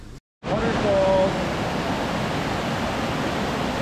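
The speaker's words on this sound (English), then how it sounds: "Waterfall." Steady broadband rush of a waterfall near Juneau, Alaska, heard on a chilly outing, a continuous close roar after a brief dropout at the start, with a faint tonal whistle near the beginning.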